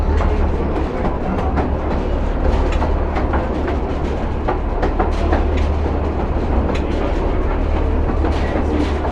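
Diesel Pleasure Beach Express train rumbles steadily through an enclosed tunnel at Blackpool Pleasure Beach, a loud, continuous low roar with rhythmic clickety-clack of wheels on rail joints and no voices.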